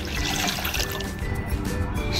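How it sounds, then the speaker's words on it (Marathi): Water poured from a pot into a kadhai (wok), a short, steady gush of liquid splashing and filling the pan, close and continuous, without voices. "कढईमध्ये 2 तांबे पाणी टाकूया."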